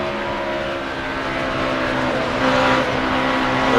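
NASCAR stock cars roar around the track at the 2004 MBNA America 400, a continuous droning engine whine that holds steady and swells slightly near the end. Loud and unbroken, with no voices.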